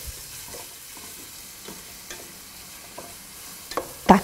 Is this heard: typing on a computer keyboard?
no